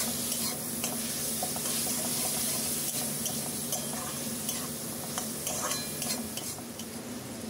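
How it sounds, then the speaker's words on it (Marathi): Bay leaf and cinnamon sauté in hot oil for a prawn rice dish. A dense, steady sizzle runs throughout, close and loud, with scattered light scrapes of a stirring spoon. "1 तेजपत्ता आणि थोडीशी दालचिनी घातली आणि सगळं छान परतवून घेतलं।"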